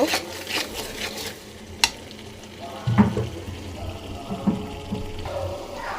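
A spoon stirs beef curry in a pot after salt and milk powder go in, making soft scrapes and a sharp clack or two over a quiet simmering sizzle.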